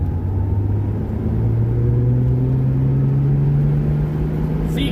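Engine of a 1982 Ford Mustang heard from inside while driving, a loud, steady low drone with a slowly rising pitch as revs climb, alone and continuous throughout.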